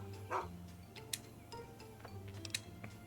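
A dog in the video game Fallout TTW gives a single short bark early on, set against steady in-game music with light ticking sounds.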